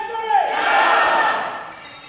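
Crowd noise swells at a boys' high school fencing state playoff match between Chatham and Millburn, a broad roar of voices with a sharp metallic clink near the start, fading toward the end.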